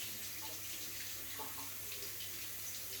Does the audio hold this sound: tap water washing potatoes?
yes